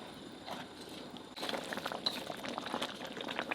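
Soft bubbling and faint popping of a thickened sauce simmering in a pan, quiet and close, growing a little busier partway through.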